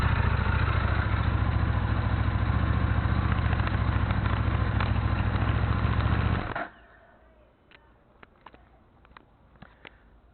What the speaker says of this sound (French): Un Buell 1125.